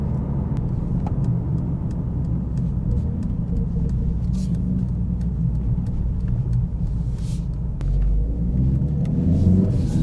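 Mercedes-AMG CLA45 S with a 420 hp engine driving in race mode on a twisty road, a steady loud engine rumble and road roar throughout with a slight swell near the end.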